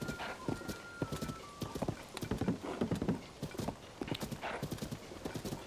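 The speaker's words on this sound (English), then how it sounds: "now our most frequently used horse will at least be nice and fast" Rapid rhythmic hoofbeats of a galloping horse in The Legend of Zelda: Tears of the Kingdom, steady and fairly close, with a brief whinny near the start.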